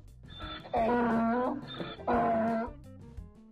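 A donkey brays in two long, loud, strained calls, each sustained for about a second, close and clear with a brief pause between them.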